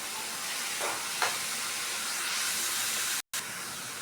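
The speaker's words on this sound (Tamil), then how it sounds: "வெங்காயம் வதங்கட்டும்." Onions sautéing in a pan give a steady hiss and sizzle, a dense even frying sound with a couple of brief stirring accents, heard alone and close with no talking.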